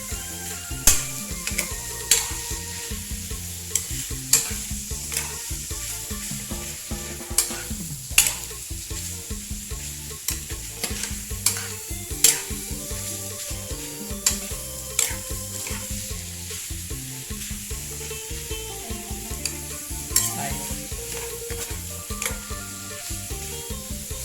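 Seasoned minced pork stir-fried in a pan, with a constant close sizzle broken by repeated sharp clacks of a spatula scraping the pan throughout.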